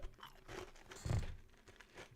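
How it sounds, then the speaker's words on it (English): Ice cubes chewed close to the mouth, with a few crunching bites, the loudest burst near the middle, and quiet gaps between them. "I'm chewing ice"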